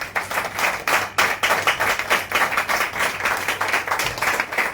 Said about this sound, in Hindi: ट्रेनिंग लेंगे, एक बार जोरदार ताली